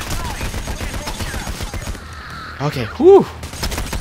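Gunfire in the video game Payday: The Heist comes as dense bursts of rapid shots, with a voice briefly speaking over it near the end.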